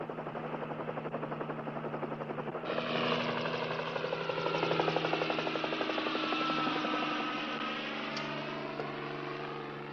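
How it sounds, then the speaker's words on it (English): Helicopter flying near a mountain ranger station, a steady rotor thump and engine drone that swells a little louder partway through and holds at moderate distance. "Is there room enough to set this copter down?"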